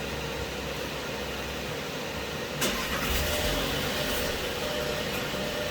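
A 2021.5 Volkswagen Atlas engine cranks and catches, a broadband mechanical rush that swells slightly at startup and then settles into a steady running hum, heard close from inside the vehicle with no talk.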